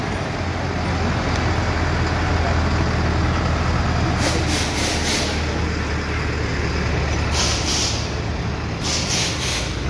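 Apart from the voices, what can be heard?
truck engine running with air brake hiss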